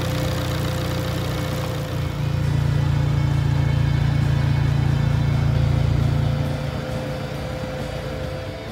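A 2013 Fiat 500 Abarth with a 1.4-liter four-cylinder engine runs at a steady idle, its low hum lifting slightly for a few seconds before settling back, with no voices.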